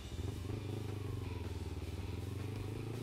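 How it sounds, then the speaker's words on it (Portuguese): A Honda Biz motorcycle engine putters with a rapid, even low throb, close and steady for a few seconds. "Ah não, é uma Honda Bis."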